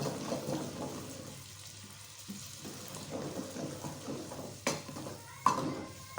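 Tomato, green chili and yogurt stirred into frying fish curry masala in a pan, a soft continuous sizzle with scraping and stirring, a few sharper clinks of utensil against the pan near the end.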